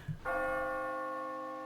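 A single church bell is struck once after a soft knock, ringing out loud and clear with a long, slowly fading metallic hum and no voices.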